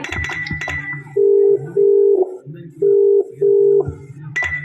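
A phone call to a father rings out unanswered: a loud steady ringback tone pulses in two double-ring cycles, with brief clatter and background noise before and after.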